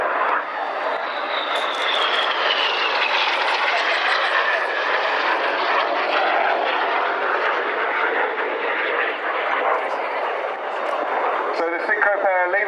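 Red Arrows jets making a low flying display pass at a Waddington air show, a loud continuous jet roar sustained throughout with a commentator talking over it.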